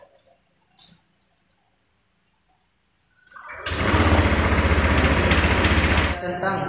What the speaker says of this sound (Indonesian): Lalu hidupkan kembali sepeda motor.